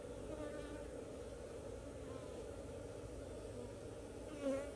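Honey bees buzz around a beehive, a steady, fairly faint drone running throughout, with one bee swelling briefly closer near the end.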